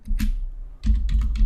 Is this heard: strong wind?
no